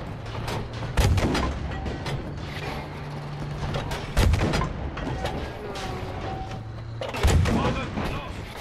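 Artillery and explosions in the Battlefield V campaign: three heavy booms about three seconds apart over a continuous bed of battlefield noise and gunfire, with a voice speaking briefly in the background.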